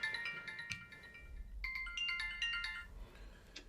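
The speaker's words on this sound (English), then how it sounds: "Oh, phone's ringing." A phone ringtone plays during a live electric unicycle show, with repeated bright melodic tone bursts in two phrases, clear and close, with no talk over it.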